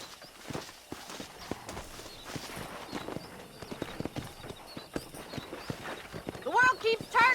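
Horse hooves clip-clop in the Western video game Red Dead Redemption, a steady walking rhythm of hoofbeats on open ground near a pack of wild horses, with a brief neigh-like cry near the end.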